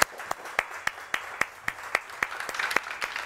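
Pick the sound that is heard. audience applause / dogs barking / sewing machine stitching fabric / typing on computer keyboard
audience applause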